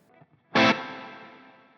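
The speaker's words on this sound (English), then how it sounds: "more of these like an imperfect reverb decay" A guitar note through a Line 6 Helix chamber reverb rings out with a loud attack and a long, slightly uneven reverb tail that fades gradually, preceded by faint pick noises.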